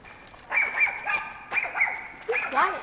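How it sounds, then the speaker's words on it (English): A small dog at a family campsite in Big Basin Redwoods gives three bursts of high, squeaky yaps and yips, close and fairly loud, each lasting under a second with short gaps between them. "It doesn't even sound like a dog. He's all squeak, squeak, squeak, squeak."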